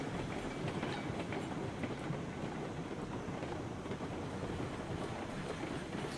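A train running on a mainline layout in the RailRoads Online video game, giving a steady rumbling roll with faint rhythmic clatter, continuous and alone.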